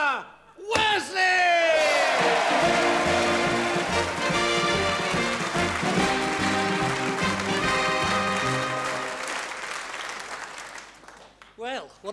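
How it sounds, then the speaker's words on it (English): A theatre audience at a music-hall variety show greets a ventriloquist act with loud applause and cheering, mixed with a band's brassy fanfare that swells and holds for several seconds before fading. "Thank you for the applause as we came on"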